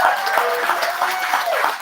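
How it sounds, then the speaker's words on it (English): Applause from an audience at a congressional coffee chat greets a Spanish translator, a steady, dense wash of clapping with some voices mixed in underneath. "Can we give a round of applause for Sandra as well?"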